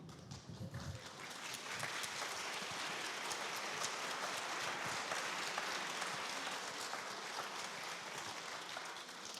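A seated audience at a live author event bursts into sustained, dense applause, many hands clapping steadily and evenly for several seconds at a moderate distance.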